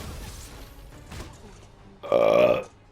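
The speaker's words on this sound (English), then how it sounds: "Burp break." A single loud, drawn-out burp near the end, throaty and resonant, following quieter rustling and breathy noise.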